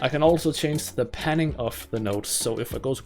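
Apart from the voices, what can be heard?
No everyday noise stands out behind the speech.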